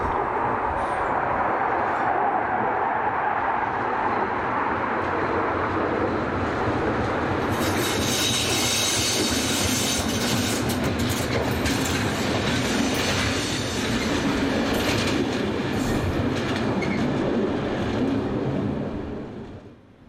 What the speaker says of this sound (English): conveniently enough, arriving with train IR2560 from Hof